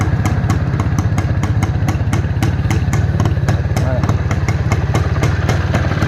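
A motorcycle engine idles steadily and close by, with a rapid, even clattering pulse that holds for several seconds without a break.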